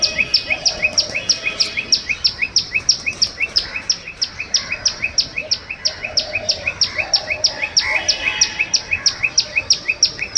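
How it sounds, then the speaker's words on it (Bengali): A small bird calls loudly and repeatedly from a rooftop at dawn, sharp bright chirps in a fast steady rhythm that runs on throughout, close and insistent. "বাবা কি জোর এইটুকু পাখি"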